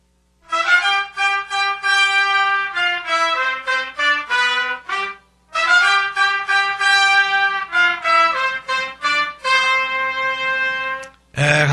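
A brass trumpet, not a silver one, played live in a sermon demonstration, sounding loud, bright, close blasts in quick repeated staccato bursts grouped into phrases, with a brief pause midway.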